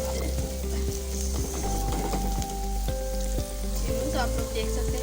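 Onions fry in hot oil with fenugreek seeds and cumin, a steady close sizzle broken by light scraping as they are stirred, with no talking.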